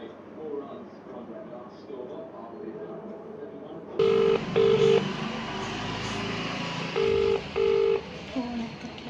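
Telephone tones sound in short pulses after a switch in background noise, a few beeps in two pairs, with a voice talking nearby.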